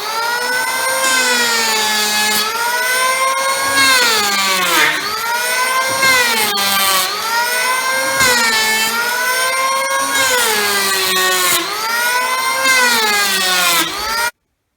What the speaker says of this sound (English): I'm going to use a power plane, which will just allow me to very quickly get rid of all that extra wood